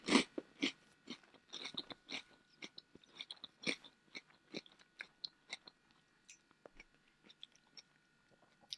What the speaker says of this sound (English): Bit of ASMR chewing for you there.